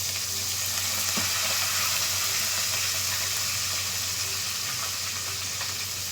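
Green chillies and curry leaves frying in hot oil, with garlic cloves, for an ivy gourd curry. A steady, loud sizzle holds evenly throughout, with faint stirring underneath and no talking.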